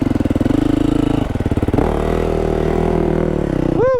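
A dirt motorcycle labors up slippery clay, its engine pulsing in a steady, throbbing rhythm at high revs, then shifting to a smoother, sustained drone before climbing briefly near the end, close and loud with no talk.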